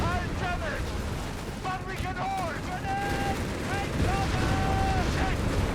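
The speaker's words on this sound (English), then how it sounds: "Guns blazing." Gunfire in a Company of Heroes 3 battle, Afrika Korps against US forces, a dense continuous rumble of shots and blasts under a commentator's voice and tonal game sounds.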